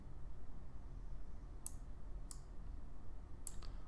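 Computer mouse clicks while building in Stonehearth, a few sharp, isolated clicks spread across the clip over a steady low background hum.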